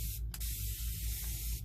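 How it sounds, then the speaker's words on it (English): A spray bottle mists water onto parchment and craft paint, giving a close, continuous hissing spray with a couple of very brief breaks. "get a spray bottle and spray this with some water"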